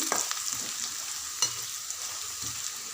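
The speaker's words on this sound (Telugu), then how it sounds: "ఇవి బాగా ఫ్రై అయ్యేదాకా కలపాలి ఇవి ఇలా ఫ్రై అయ్యాక మనం తయారు చేసుకున్న వెల్లుల్లి కారం ఇవి వేసి బాగా కలపాలి" Garlic chili powder and spices frying and being stirred in a pan for leftover-rice tempering, a steady close sizzle with a few scraping stir strokes and no talk.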